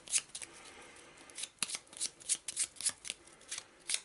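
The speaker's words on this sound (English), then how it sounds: "let's have a quick shuffle of the ally deck" Cards from an Arkham Horror ally deck are shuffled by hand, a series of quick papery riffles and snaps at close range with no talking.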